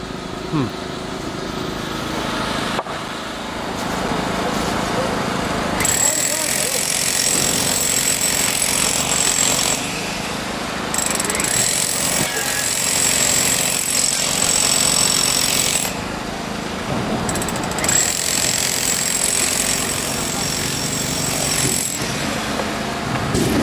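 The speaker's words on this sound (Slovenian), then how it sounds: "gospod je ravnokar začel ponovno vrtati" A jackhammer drills into newly laid paving stones during sidewalk renovation in Ljubljana, a loud, continuous rattling hammer that stops and restarts several times, close by, with street noise around it.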